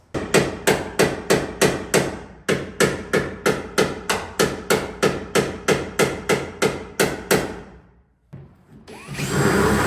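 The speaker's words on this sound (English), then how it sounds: "maybe I'll just bang it with the hammer so that that can't loosen" A hammer strikes metal again and again in a steady, fast rhythm, loud and close, with a brief pause before the clanging stops and a rustle follows.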